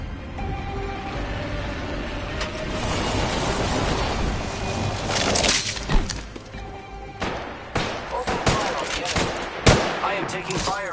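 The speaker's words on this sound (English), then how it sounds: "I am taking fire, friends. Getting shot at." Gunfire in a battle royale video game, bursts of rapid automatic shots and single cracks mixed with impacts and clatter over a busy background, getting denser toward the end.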